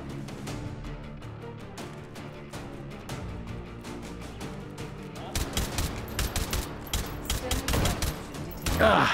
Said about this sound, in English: These grenade launchers make everything so easy.